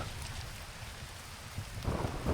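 Thunder and lightning strike in the survival video game Lost Rift, a sudden loud broadband crack and rumble arriving near the end after steady rain-like background noise, with no talking.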